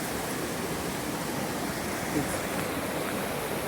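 Fast-moving Cascade River rushing over rocks in Superior National Forest, a steady broadband roar of churning water heard close and loud throughout, with no voices.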